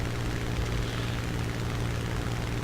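The engine of a Spitfire Mk I fighter plane in the War Thunder video game drones steadily and loudly in flight, a constant broadband roar with a low throbbing rumble and no pauses or talking.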